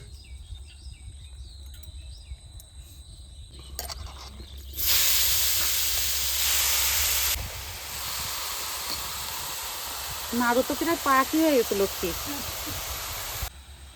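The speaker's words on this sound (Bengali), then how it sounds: "এবার নারকেলগুলো ভেজে নেবো ভালো করে" Grated coconut sizzles in a kadai while being fried for coconut naru, a steady close hiss of frying that rises sharply and continues to the end, with a voice speaking briefly near the end.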